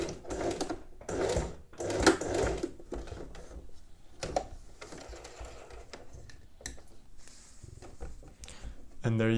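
A sewing machine edge-stitches zip binding, running in short bursts beneath a person talking close by, with quieter steady stitching later on.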